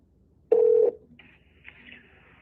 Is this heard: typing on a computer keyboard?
no